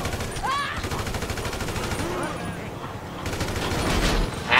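Police open fire in GTA Online with rapid machine-gun bursts, a continuous rattling stream of shots under game noise and a faint voice, building louder toward the end.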